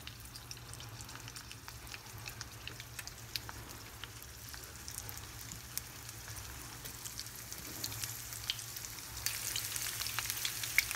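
Stuffed bitter gourd (karela) frying slit side down in a pan over medium heat, a steady close sizzle with scattered tiny crackles and pops, growing a little livelier toward the end.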